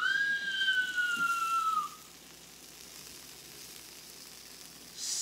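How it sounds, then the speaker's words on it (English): Steady hissing sizzle close up from hot pork tenderloin just out of the oven, with a faint high tone, dying down after about two seconds to a quiet background hiss. "Sizzling. Ah, it's hot."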